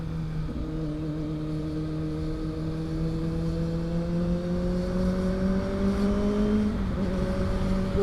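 A car accelerates on a quiet road with a steady engine drone that rises smoothly in pitch, drops briefly as the gear shifts near the end, then climbs again, heard from inside with no talk.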